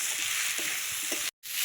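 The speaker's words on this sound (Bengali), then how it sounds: "লবণ, হলুদ, আবারও সবকিছু মিশিয়ে নিচ্ছি" Steady frying sizzle as salt and turmeric are stirred into a fish head curry in a pan, close and even, with a brief dropout to silence near the end.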